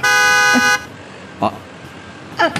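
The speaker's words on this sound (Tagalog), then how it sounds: "Nagpigsan lakit din ti busina." A car horn honks in short bursts: one long sustained blast up front, then two brief toots, loud and close, with street background between them and faint talk.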